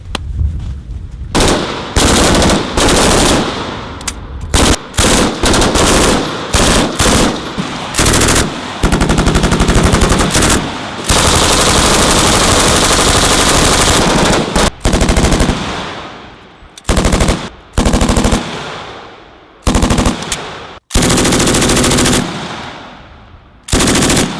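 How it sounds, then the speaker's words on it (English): Gunfire at a military range qualification with the M249 squad automatic weapon: loud, close bursts of automatic fire, long sustained strings broken by short pauses and then choppy shorter bursts toward the end. "Once you get there, lock and load and fire."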